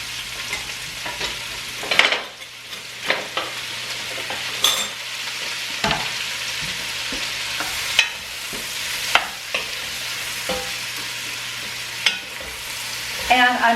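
Onion and mushroom frying in a pot for braised chicken, a steady soft sizzle broken by repeated scraping stirs of a utensil against the pot, close and without talk.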